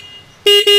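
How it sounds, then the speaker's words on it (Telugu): Two loud, close blasts from the horn of a 2024 Bajaj Pulsar NS400Z motorcycle, a short beep and then a second one, ringing out after a brief quiet moment. "హార్న్ యొక్క లౌడ్నెస్ అనేది ఒకసారి చెక్ చేద్దాం."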